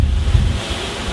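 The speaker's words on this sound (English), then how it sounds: "that gust is so so strong there, it almost blew over my camera" A strong wind gust during a wildfire in San Diego buffets the camera microphone with loud, low roaring rumble that peaks early and then eases slightly, with no voices.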